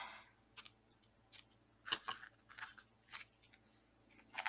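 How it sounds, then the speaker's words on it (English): Scissors trimming paper scraps for a handmade card: a series of sharp, close snips in an irregular rhythm, quiet and alone. "gonna trim a little bit"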